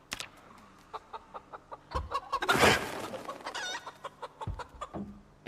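A chicken in the game Project Zomboid clucks repeatedly in a steady rhythm, with a louder squawking burst and a crow-like call in the middle, near and clear with no talk.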